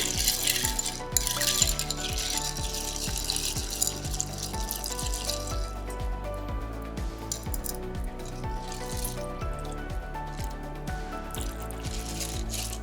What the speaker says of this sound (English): Stir to emulsify everything.